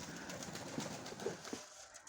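Soft, low pigeon coos sound a few times, faint and close, over a quiet background hiss.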